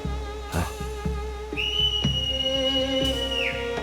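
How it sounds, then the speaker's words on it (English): A single sustained whistle note in a Final Fantasy Mobius cutscene, held steadily for about a second and a half and then bending downward as it ends, heard over soft background music. "That whistle."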